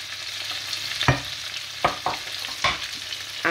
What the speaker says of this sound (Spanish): Lo ponemos ahí y lo vamos a sofreír.